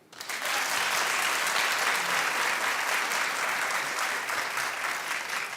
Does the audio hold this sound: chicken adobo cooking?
no